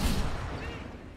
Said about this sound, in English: Why is this ship even shooting me?